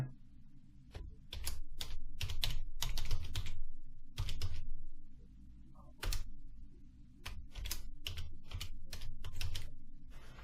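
Title text typed on a computer keyboard in bursts of quick, close key clicks separated by short pauses.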